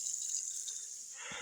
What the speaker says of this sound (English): put the little cap in there, let the basin fill with water.